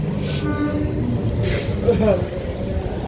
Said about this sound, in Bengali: তো আমাদের ট্রেন এই মুহূর্তে ছেড়ে দিল